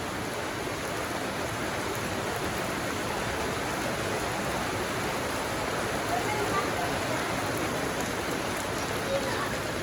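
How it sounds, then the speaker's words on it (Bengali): Evening rain falls steadily outside a house, a soft, even hiss of drops on surfaces that holds at the same faint level throughout with no pauses. "খাওয়া দাওয়া শেষ করে বসে রয়েছি বাইরে হইতেছে বৃষ্টি"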